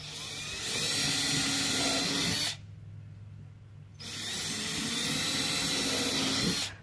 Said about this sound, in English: Why do you want to pre-drill, Joe?